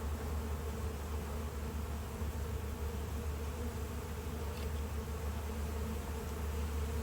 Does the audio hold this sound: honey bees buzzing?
yes